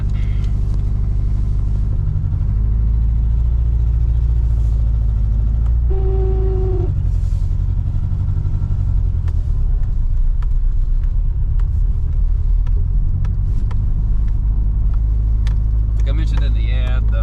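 A 1986 Nissan 200SX with a five-speed manual gearbox is being driven, its engine rumbling steadily and loud up close in the cabin, with brief gear-change and road noises along the way and no talk over it.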